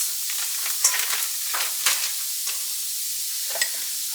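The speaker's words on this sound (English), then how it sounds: "I'm going to add a little bit of bacon grease to my pan. And then I'm probably just going to add probably just about a half of a cup of onions." Onions fry in bacon grease in a pan, producing a dense, even hiss of sizzling with a few spatula scrapes and clicks, close-up and steady without speech.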